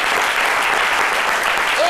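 A television studio audience applauds on a French-language midday talk show, a dense, continuous burst of clapping that stays loud and even throughout.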